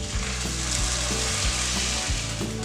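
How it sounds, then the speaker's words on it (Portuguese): Boiling water poured over rice frying in a pot, giving a loud, steady sizzle and bubbling hiss with low rumbling throughout and no talk. "eu vou colocar a água fervendo"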